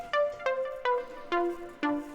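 Synth notes built from a couple of sawtooth waves through a filter that closes quickly, five plucky stabs in a short melodic phrase, each bright at the attack and fading fast, moderately quiet.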